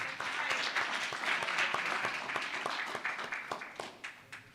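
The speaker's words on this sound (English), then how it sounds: "Give yourselves a round of applause." An audience at a Purim 2025 gathering applauds, a dense burst of clapping that thins into scattered individual claps as it fades.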